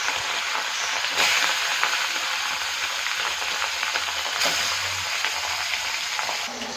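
Fish fry in hot oil in a wok, giving a loud, steady, close sizzle and hiss throughout, with brief crackling bursts.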